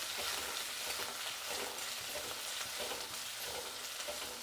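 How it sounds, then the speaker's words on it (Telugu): Chopped onions, green chillies and curry leaves sizzle in hot oil for a dosa tempering, with steady close frying crackle and occasional stirring scrapes, and no talking. "బాగా వేయించుకోవాలండి ఎర్రగడ్డలు అనేది, అప్పుడే బాగుంటుంది."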